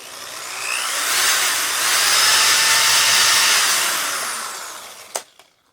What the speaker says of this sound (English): drill into that pool of thread lock. Drill all the way through.